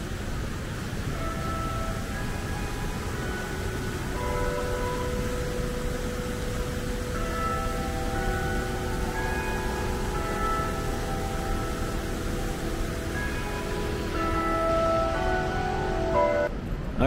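Church bells ring out near a Wall Street plaza in New York, a sustained, layered tolling that carries on steadily at moderate distance beneath a wash of city ambience.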